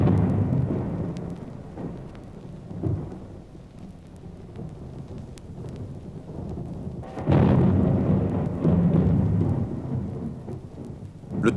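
A huge thunderstorm over the summit of Mount Sinai, with rolling thunder building to a loud crash midway over constant heavy rain.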